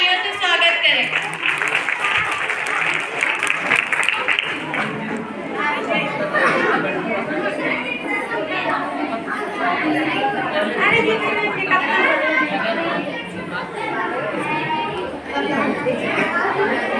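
A school audience applauds student dancers at a Republic Day programme, steady crowd clapping mixed with chatter running throughout at a consistent, fairly loud level.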